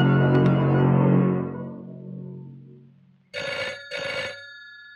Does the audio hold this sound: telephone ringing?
yes